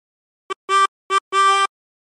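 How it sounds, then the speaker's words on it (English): Four blown notes on a 20-hole tremolo harmonica, all through hole 11, in a short-long-short-long pattern with clean gaps between them, bright and reedy with no voices. "Blow into 11 four times."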